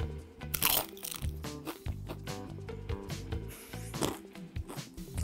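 Sea-water-flavoured potato chips crunch loudly and close up, with a run of crisp, irregular bites and chews.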